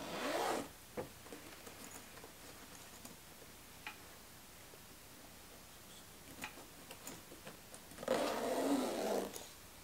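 YKK zipper on a Level8 carry-on suitcase, with two quick zipping strokes at the start and end and faint handling clicks between, close and quiet.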